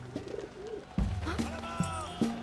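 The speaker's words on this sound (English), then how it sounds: "There's some other pigeons up there," Pigeons coo softly in the Valiant Hearts war video game, a few short low calls repeating at a gentle rhythm under steady game background sound, fairly close and moderate in level.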